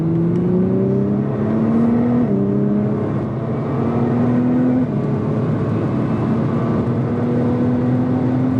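A 2017 Nissan GT-R laps Spa-Francorchamps in the rain, its engine droning steadily with a rising tone, a brief dip near the two-second mark as it shifts, then climbing again, loud and close, with no talking.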